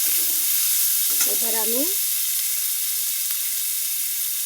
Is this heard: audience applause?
no